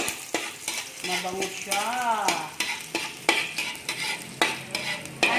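Garlic sizzles and fries in a hot pan for a vegetable fern and crab dish, with steady crackling and scraping stir strokes throughout; a voice speaks briefly.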